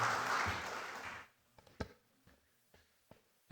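A church audience at a pastors' and elders' seminar in Seongju applauds to welcome a seminary professor: dense, loud clapping for about a second, then breaking off into a few scattered claps and small knocks.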